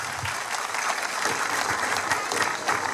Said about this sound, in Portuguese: uma salva de palmas ao povo de Deus aqui presente